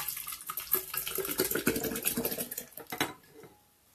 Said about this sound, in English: with our fermented kefir, we pour it into a new jar